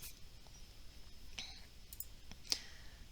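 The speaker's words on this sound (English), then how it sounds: "If I double click on it" A computer mouse clicks a few times in a quiet room, with short, sharp, close clicks spread out and one louder click near the end.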